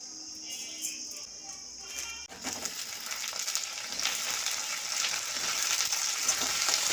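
Fried fritters drop into a vegetable curry in a home kitchen pan, setting off a steady hissing sizzle that starts abruptly and continues at low volume, with faint stirring.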